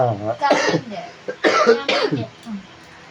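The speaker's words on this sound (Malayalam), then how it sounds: "എന്റെ ചുമ കേട്ട് മോൻ എഴുന്നേറ്റം തോന്നുന്നു" A woman coughs in several harsh bursts, with brief pauses and throat sounds between them, close to the listener.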